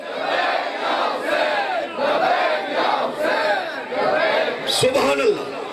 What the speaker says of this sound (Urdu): دونوں بازو بلند کر کے لبیک یا حسین لبیک یا حسین